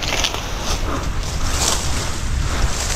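Strong wind roars steadily over an outdoor bitter gourd trellis and calamansi plants, with a loud, constant rushing that buffets the microphone and no pauses.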